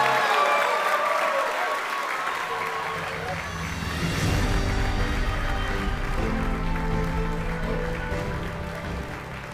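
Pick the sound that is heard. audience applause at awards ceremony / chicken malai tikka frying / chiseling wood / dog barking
audience applause at awards ceremony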